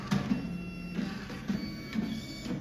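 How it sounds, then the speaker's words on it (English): A TVS Speed 40 Star dot-matrix printer initializing gives a series of short low mechanical clunks and buzzes, about six in under three seconds, close and fairly quiet. "printer had it initialized."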